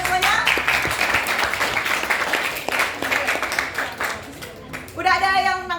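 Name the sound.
audience applause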